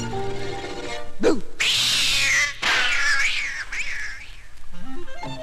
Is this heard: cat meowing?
yes